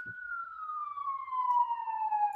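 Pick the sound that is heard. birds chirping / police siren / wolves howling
police siren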